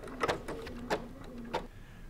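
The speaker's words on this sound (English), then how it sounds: "So I will let the machine stitch out." A BERNINA embroidery machine stitches out a design on a fusible quilt label, making a faint, steady mechanical hum broken by three soft, evenly spaced thumps or clunks, with no talking.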